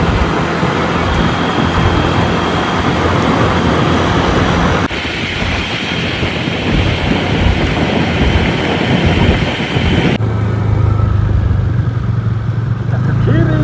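A steady, loud engine drone runs throughout, shifting in tone partway through, like a motorcycle idling and pulling away close by, setting off on a ride to Jeram Tok Din.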